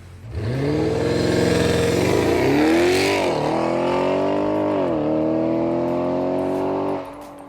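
A powerful Audi RS7 V8 engine fitted with new downpipes revs hard up close, climbing in pitch, dropping, then surging again before holding a steady roar and cutting off abruptly.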